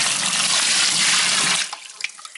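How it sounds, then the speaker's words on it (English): Hot water pours steadily and loudly into a wine fermenting container for about a second and a half, then stops, leaving a few faint drips and trickles. "we're going to add 2 liters of hot water into our fermenting container"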